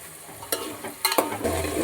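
Ivy gourd dropped into a pan of frying undhiyu vegetables, giving a couple of soft thumps and stirring noises over a steady low sizzle, with no talking.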